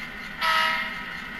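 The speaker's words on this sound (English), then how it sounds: "To gently couple onto the train." Tsunami2 sound decoder on a model train locomotive coupling onto cars, a steady mechanical hum that swells abruptly partway through into a louder, sustained tone.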